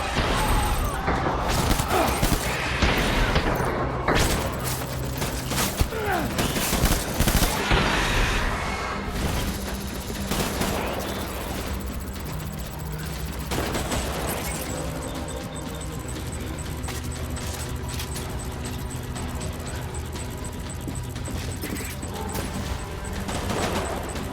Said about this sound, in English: Taking fire! Open fire!